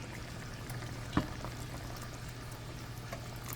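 Water pours steadily into a pot of beans with a continuous liquid hiss and one brief splash partway through; no one speaks.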